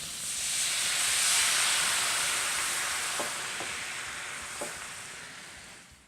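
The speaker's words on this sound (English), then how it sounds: "And we'll add our fresh lemon juice and Scarborough Sauvignon Blanc wine." Lemon juice and Sauvignon Blanc wine hit a hot pan while making chicken piccata, setting off a loud, steady sizzle and hiss that fades slightly toward the end, with a few faint clinks.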